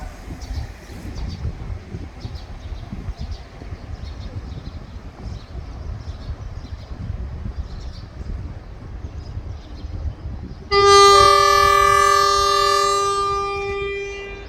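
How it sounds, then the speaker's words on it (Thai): Thai passenger train no. 532 comes into Mueang Phon station, its wheels rumbling steadily on the rails before a loud, sustained horn blast sounds close by near the end. "ไฟเขียวๆนั่นขบวน 532 วิ่งมาพอดีนะครับ"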